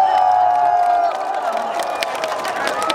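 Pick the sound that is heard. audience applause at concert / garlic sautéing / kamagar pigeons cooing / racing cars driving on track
audience applause at concert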